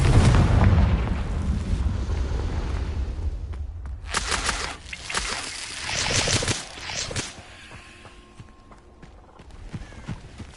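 A Confringo blasting spell detonates in the video game Hogwarts Legacy with a loud, deep booming blast that rumbles and decays, followed by scattered crackling impacts and fainter game sounds trailing off.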